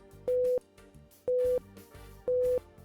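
Three identical electronic beep tones play back in regular succession, each lasting about a third of a second with short gaps between, clean and steady inside audio editing software used for dialog replacement.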